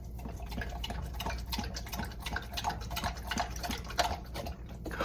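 Soft, rhythmic lapping and dripping of a dog drinking from an automatic water bowl fed by a water line, close by and fairly quiet, with no talking.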